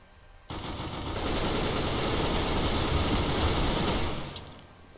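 Counter-Strike: Global Offensive gunfire rings out as a sustained automatic burst of rapid shots, loud and close, lasting several seconds before cutting off.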